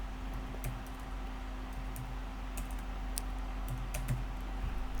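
Someone typing on a computer keyboard to enter a full name and birthday: soft, irregular key clicks in short bursts over a quiet background hum, with no talking.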